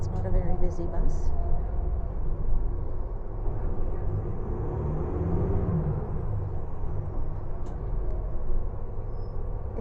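A lightly occupied city bus rolls along Barrington Street with a steady low engine rumble and road noise throughout, a faint hiss of brakes and some indistinct voices in the background.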